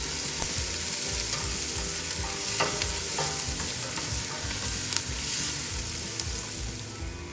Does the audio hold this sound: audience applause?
no